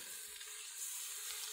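Mushrooms and onions fry in butter inside a Ninja Foodi, giving a steady, soft, even sizzle that hisses on without pause and with no voices.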